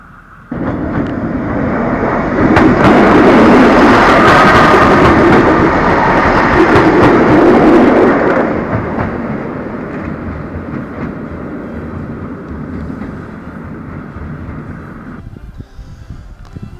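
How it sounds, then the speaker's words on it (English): A train rolls past nearby on the Wales coast, a loud rumbling swell that peaks mid-way and then eases into a steady fading rattle. "Here comes the train"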